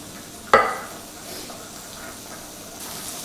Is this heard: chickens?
no